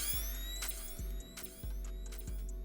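A bright flash sound effect, washed in reverb and delay, hits repeatedly over a clicking, ratchet-like rhythmic drum loop in an ethereal beat, with sweeping high tones trailing off between hits.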